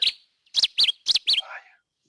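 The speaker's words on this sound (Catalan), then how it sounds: "El cinquè era su pariente, el rossinyol bord." A Cetti's warbler gives a loud, close song: a sharp opening note, a short gap, then four rapid emphatic phrases that end in a softer trailing flourish.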